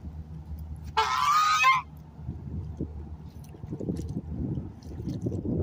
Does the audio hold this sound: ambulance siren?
no